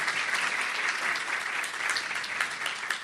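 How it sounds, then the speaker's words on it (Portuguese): Applause from the audience at the opening of a sustainability forum in Bahia in 2017, a continuous, even wash of many hands clapping, moderately distant and with no voices over it. "uma salva de palmas para Rafael Valente"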